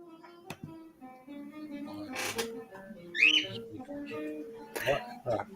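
A pet bird lets out a short squawk and a few chirps amid a quiet indoor room, while a person talks nearby between the calls.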